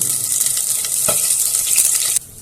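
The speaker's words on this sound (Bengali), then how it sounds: "মাছগুলো সব ভাজা হয়ে গেছে" Fish fry in hot oil with a dense, continuous hiss and crackle, close and steady, until the sizzle cuts off sharply near the end.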